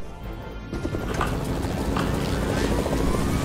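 A helicopter in a Wolverine and Iron Man video game gives a loud, steady rotor roar that builds slightly over a few seconds with no talking.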